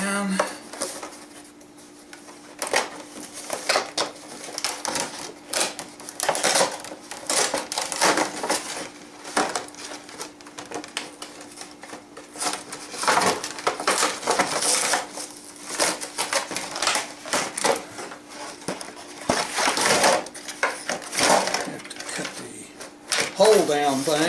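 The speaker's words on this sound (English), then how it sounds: "You have to cut all the tape here." Cutting tape on the packaging of a 12-inch Hasbro Transformers Megatron toy: busy crinkling, scraping and snipping of cardboard and plastic, close and steady throughout, with a voice talking over it.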